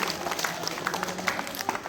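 Schoolchildren clap for a classmate at a village school Independence Day celebration, a brief patter of light, scattered applause heard from a moderate distance.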